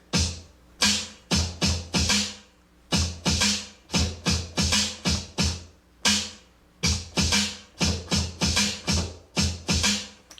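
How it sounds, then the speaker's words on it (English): Turntable drumming with scratching, a rhythmic drum-machine style beat with punchy kicks and sharp snare hits in a steady, fairly slow pattern, loud and without talk; scratching is not clearly distinct. "make turntable drumming sound like this"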